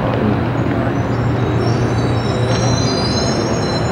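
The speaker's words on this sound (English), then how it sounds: "Train station." A train at a Boston station rumbles loudly and steadily, with a high metallic wheel squeal ringing above the constant low roar throughout, and no voices.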